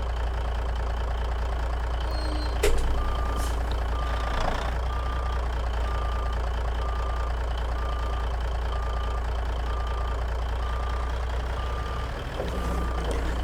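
A truck hauling a polar pneumatic tanker trailer in American Truck Simulator idles with a low engine rumble while reversing beeps repeat at an even rhythm, with a few brief clunks along the way.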